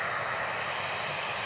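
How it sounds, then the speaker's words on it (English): An EasyJet Airbus A320neo lines up on the runway at Manchester Airport, its jet engines giving a steady, broad, distant roar throughout. "We have a EasyJet lining up as well. 320 Neo to Milan."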